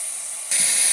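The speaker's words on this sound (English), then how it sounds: "So what I have right here is my wife's good old ThermaPro 211. It's a steam cleaner." A ThermaPro 211 steam cleaner blasts a steady, loud hiss of steam as it clears gunk from a 1991 Honda Civic hatchback's gas tank, starting quieter and jumping sharply louder partway through.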